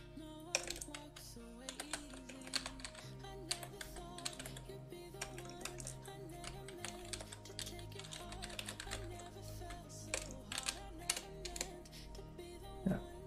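Quiet typing on a computer keyboard, irregular bursts of light clicking keystrokes over a faint steady background hum.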